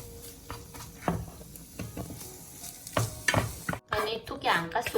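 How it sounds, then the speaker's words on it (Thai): Chopped garlic stir-fried in a pan for a mushroom cream sauce, giving a busy, close sizzle broken by repeated spatula scrapes and taps, with a brief pause before the frying picks up louder again. "กระเทียมสับค่ะ ผัดทุกอย่างให้เข้ากันค่ะ"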